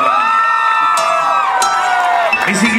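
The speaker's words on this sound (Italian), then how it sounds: "Un forte applauso per Gaine" A crowd at an anniversary celebration cheers and shouts over a loudspeaker voice, with bursts of whoops and children's shouts rising near the end, loud and close.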